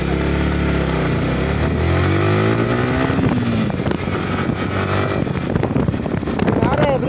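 A Yamaha R15M motorcycle engine runs just after starting, a loud steady drone with rising revs and heavy wind rumble, while people talk over it.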